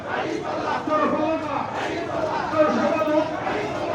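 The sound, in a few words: crowd chanting at a Jamaat-e-Islami protest march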